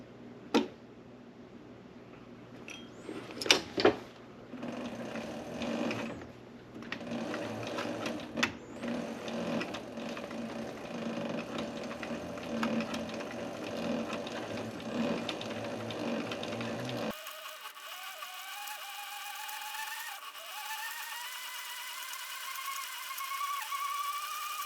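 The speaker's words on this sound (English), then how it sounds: "We'll go ahead and go to the sewing machine and get this part sewn." A sewing machine stitches leather in steady mechanical bursts, close and moderately loud, with brief pauses and clicks between stitching runs.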